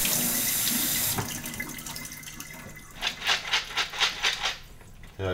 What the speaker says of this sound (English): Feel the fresh water showering down on you.